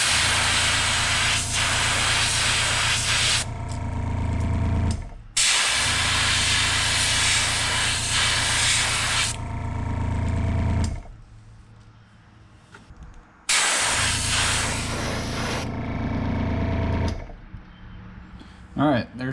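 An airbrush sprays pearl white paint onto a jerkbait, a steady loud hiss running in long bursts of several seconds with brief pauses between passes, alone without talk.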